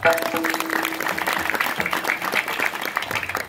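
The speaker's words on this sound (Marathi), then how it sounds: "आणि या सगळ्या पोरांसाठी एकदा जोराने टाळ्या वाजवा" Audience at a kirtan clapping loudly for a group of boys, a dense, continuous patter of many hands heard close, rising and falling slightly over a few seconds.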